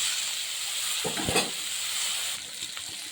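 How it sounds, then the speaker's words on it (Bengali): Pumpkin, taro and eggplant fry in a pan with a steady, close sizzle, broken by a short burst of scraping and stirring near the middle, with no one speaking. "দিয়ে দিচ্ছি কুমড়ো কচু বেগুন একসঙ্গে এবারে এইটা আমি ক্রমাগত নাড়তে থাকবো"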